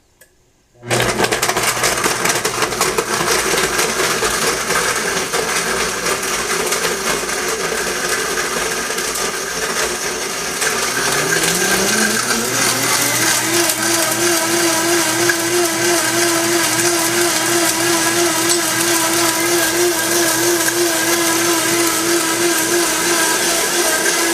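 A blender whirs through a gym smoothie on its smoothie setting, starting abruptly after a brief quiet moment and then holding a loud, steady motor drone, its pitch sliding upward partway through as the contents loosen.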